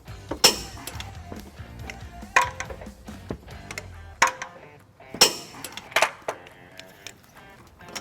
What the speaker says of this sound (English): we're ready to torque down our bolts to the required specifications